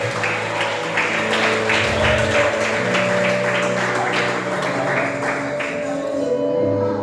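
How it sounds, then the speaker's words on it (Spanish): A church congregation at an evangelistic service claps together in a quick, fairly loud rhythmic patter over sustained background music, with the clapping thinning out near the end. "Dale un aplauso fuerte a Cristo."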